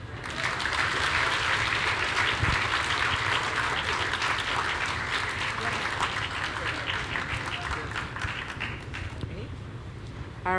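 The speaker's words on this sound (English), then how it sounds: "please give your biggest round of applause for our remarkably talented performers" A concert audience at an Australia-Indonesia cultural heritage celebration applauds loudly and steadily, a dense wash of clapping that carries on for about ten seconds before easing slightly at the end.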